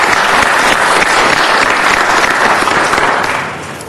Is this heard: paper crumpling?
no